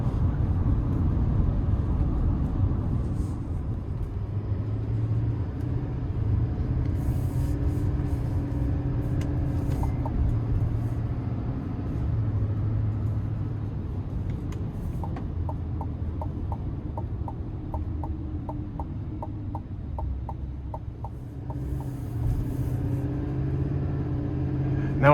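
A 2026 GMC Sierra 3500HD Denali Reserve Duramax truck cruising on smooth interstate, heard from inside as a steady low road and engine rumble with faint ticking and no speech.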